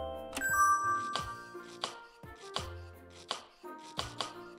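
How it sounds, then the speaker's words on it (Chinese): Onion chopping in the VR cooking game My Little Chef, with about eight crisp knife chops on a board spaced irregularly, each mixed with bright chiming game tones, close and clear with no speech. "先来切炒菜用的洋葱吧，"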